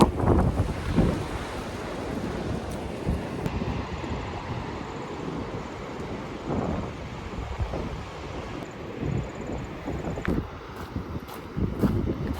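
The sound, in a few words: sea waves at Elizabeth Point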